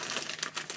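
A plastic bag of Lego pieces is torn open: close, crisp crinkling and rustling of thin plastic in quick irregular bursts, with no talking over it.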